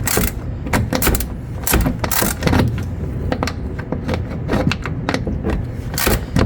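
Ratcheting and clicking of a 10 mm socket unscrewing bumper screws on a GMC Yukon, a run of irregular sharp metallic clicks and taps heard up close.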